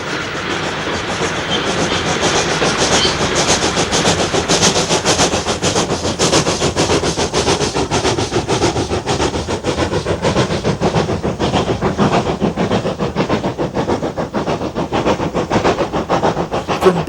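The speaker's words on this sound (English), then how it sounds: "A double chimney 9F eases steadily down the bank as a diesel-hauled freight tackles the ascent." A double-chimney 9F steam locomotive eases down a steep bank while a diesel-hauled freight climbs past, producing a loud, continuous rapid rhythmic clatter and rumble of wheels and wagons that persists close throughout.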